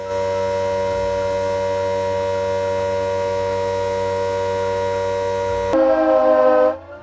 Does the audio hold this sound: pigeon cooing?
no